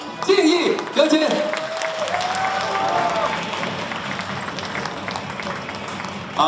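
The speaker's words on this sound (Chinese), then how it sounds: "让我们大家和我一道为我们的胡子秋先生来进行鼓掌敬意" A banquet audience applauds at an awards gala celebrating the Toronto Dragon Festival, with steady dense clapping that swells after a fading tonal note and then holds evenly throughout.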